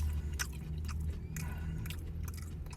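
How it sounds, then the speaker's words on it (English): Biting into and chewing a hot deep-fried pickle, with close, crisp crunches and moist chewing sounds in short bursts over a low background hum. "Let's try these pickles. Deep fried pickle."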